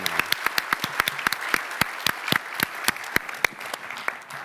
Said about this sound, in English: Give a round of applause for Jessica, please.